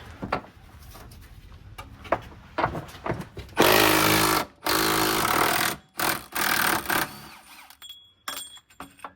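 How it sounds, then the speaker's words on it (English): An impact wrench rattles in several loud bursts, removing 18 mm subframe nuts on a BMW E36 M3, with clanks and handling noises between the bursts. "I'm gonna take out the two nuts out from the back first."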